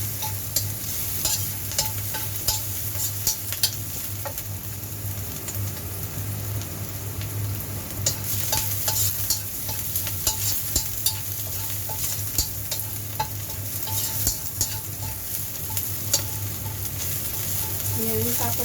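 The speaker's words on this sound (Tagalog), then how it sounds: "Halo natin ang bawang. Hanggang mag-golden brown siya." Garlic being stirred and fried until golden brown in a pork and potato carrot stew gives off a steady sizzle, broken by repeated scraping stirs, with a low hum underneath.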